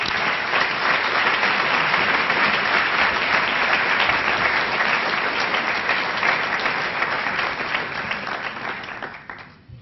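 A university lecture hall audience at Northwestern applauding to welcome speaker David Harvey, steady dense clapping from a large crowd that fades out at the end.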